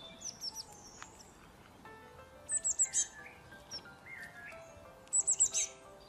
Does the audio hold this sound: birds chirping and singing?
yes